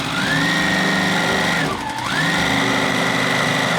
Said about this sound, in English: You're going to just put it right underneath the sewing machine.